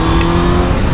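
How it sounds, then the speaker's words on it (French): The engine of a Honda CBR 1000 RR-R Fireblade sport motorcycle drones loud and close, holding a steady high-revving roar for about a second with no voices. "J'entends le bruit de moteur, j'ai l'impression qu'il y a une sportive à côté de moi"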